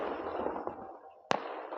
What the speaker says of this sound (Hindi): दिल्ली जीतने की खुशी में पटाखे फोड़ रहे हैं।